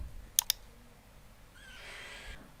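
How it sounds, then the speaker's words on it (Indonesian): A computer mouse clicks the next step button: two quick, sharp clicks close together, followed by a soft tonal sound in a quiet room. "Selanjutnya kita klik next step."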